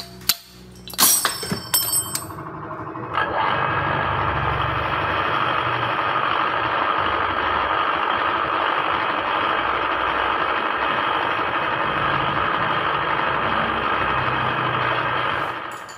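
Yamaha LC135 motorcycle engine idling with a modified head after a valve size upgrade, starting after a few clattering bangs and then running at a steady, loud, close idle drone until it cuts near the end.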